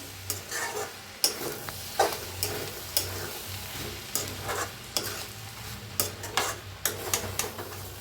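Cooked drumstick leaf and lentil curry is stirred in a pot, soft wet churning with regular spoon knocks against the metal over a low background hum.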